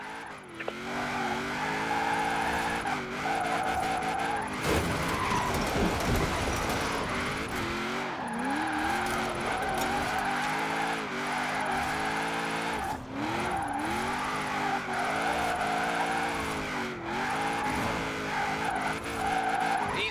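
Car drifting in Forza Horizon 4, loud continuous engine drone with rising and falling revs, mixed with steady tire squeal through a run of tight turns, close and alone without talk.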